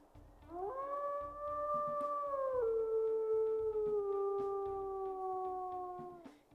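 A timber wolf in a video game lets out two long, clear howls, the first higher and the second slightly deeper, each sustained for a few seconds and clean over a faint background.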